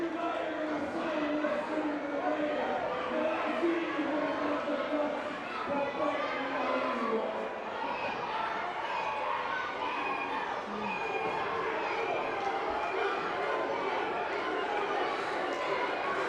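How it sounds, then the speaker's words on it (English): A crowd at an independent pro wrestling show keeps up a steady roar of cheering and chanting, filling the hall without a break as brawling breaks out in the ring. "And the crowd getting behind Duke McIsaac here as a chaotic scene"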